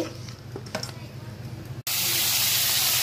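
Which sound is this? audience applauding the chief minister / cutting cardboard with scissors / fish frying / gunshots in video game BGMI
fish frying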